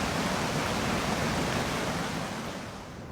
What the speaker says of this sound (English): it's built itself, well, a raging river roaring down that stretch of valley